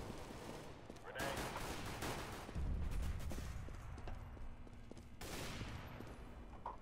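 Counter-Strike: Global Offensive gunfire plays as a steady, dense barrage of rapid shots with heavier thumps mixed in. It stays constant and fairly loud throughout.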